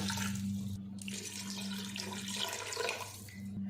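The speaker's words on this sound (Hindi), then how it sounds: "पानी डाल देंगे। पानी हम इतना डालेंगे कि पायों से 1 इंच ऊपर आए।" Water pours steadily into a cooking pot over goat trotters, a continuous splashing rush heard up close, with a brief pause partway through.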